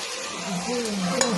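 Cooked rice is tossed and stirred into tomatoes frying in a pan for tomato rice, giving a close, steady sizzle with scraping and stirring, and a brief clatter near the end.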